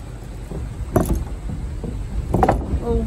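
A car on a rural road trip crosses a bridge with a low rumbling cabin drone and a few loose clattering rattles and knocks, close and uneven.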